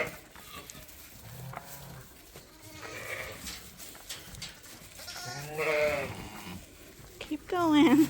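Suffolk ewe and her lambs bleating in a farm lambing barn, repeated calls of varying pitch, some close and loud, with a person speaking over them.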